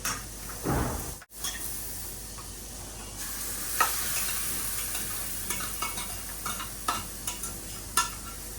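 Butter heating and being stirred in a hot pan, giving a soft steady sizzle punctuated by sharp scraping and tapping strokes of a spoon, after a short clatter near the start.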